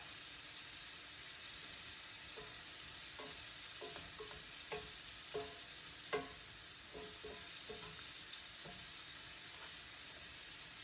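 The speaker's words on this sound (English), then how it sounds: "The second batch always fries faster because the grease is really hot." Shrimp frying in very hot grease gives a steady, close sizzling hiss throughout, with scattered light clicks and pops from stirring, and no talking.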